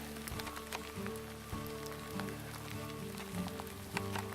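Rain falls steadily on a hunter's rain gear and the surrounding ground during a mule deer hunt out west, a continuous close patter with scattered sharper drop hits and a few low knocks, with no talking.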